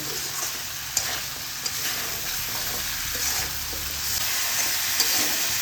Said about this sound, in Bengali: ভালোভাবে এই ডাঁটা, আলু আর টমেটোটা কষিয়ে নেব